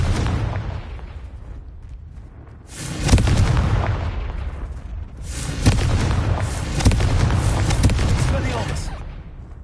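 Explosive spell blasts from the Hogwarts Legacy video game, loud booming bursts around 3 and 6 seconds with rumbling tails over a continuous game soundscape.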